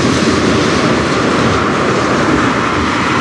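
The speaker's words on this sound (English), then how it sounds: "One of those really loud cars. Almost sounds like another locomotive." Loud freight train railcars roll past close by on the Strathroy Sub, a heavy continuous rumble and roar with steady wheel clatter running the whole time and no pauses.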